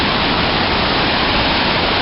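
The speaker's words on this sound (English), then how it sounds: "This is what makes the canyon roar." A waterfall in Cascade Canyon, Grand Teton, roars steadily up close as a dense, unbroken rush of white water, loud and constant with no voices.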